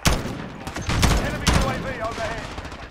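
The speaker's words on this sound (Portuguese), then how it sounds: "Nossa, foi uma rajada bonita ali de cima" Gunfire bursts in a Call of Duty Modern Warfare game, a few sharp close cracks in quick succession followed by a fading rattle, with someone talking over it.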